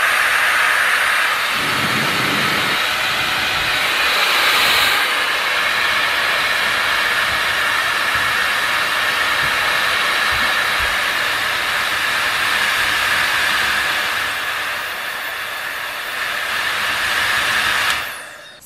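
A handheld hair dryer blows steadily at close range for the whole stretch as a loud, broad, constant whoosh, dipping briefly near the end and then cutting off. No one speaks.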